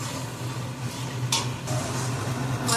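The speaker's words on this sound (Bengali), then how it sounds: "একটুখানি জল দিয়ে ভালো করে এটাকে কষাতে হবে যতক্ষণ না তেল বের হয়।" A spoon stirs and scrapes a spice masala frying with a little water for egg and potato biriyani, giving a close, steady sizzle with a few sharp clinks against the pot.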